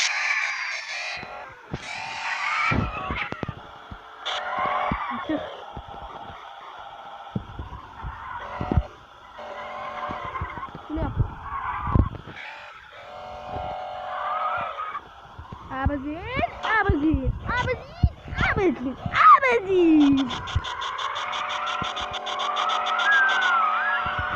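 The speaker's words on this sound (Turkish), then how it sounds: "Burada öyle bir drift yapmak istiyorum ki." A car drifting with tires skidding, with engine revving and squealing screeches rising and falling in several bursts over a continuous roar, loud and close.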